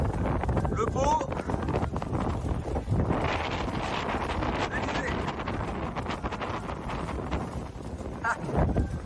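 Steady, loud wind buffeting the microphone with broadband rushing noise throughout aboard an ocean racing sailboat at sea during the Vendée Globe, mixed with water and boat sounds, and a few brief chirpy squeaks near the start.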